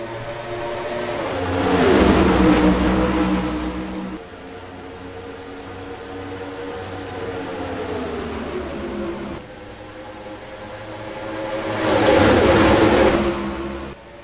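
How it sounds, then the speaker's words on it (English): Stock cars racing at Michigan International Speedway in the NASCAR Racing 2003 sim during the General Tire 200, with engines roaring loudly past twice on the front straightaway and a steady drone between passes. "Coming down the front straightaway to lead the opening lap, Joshua Brown."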